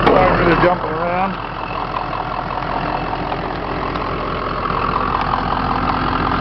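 The diesel engine of a Ford F550 stake-body 4x4 truck idles with a steady mid-low drone after a brief louder burst at the start, while someone talks over it.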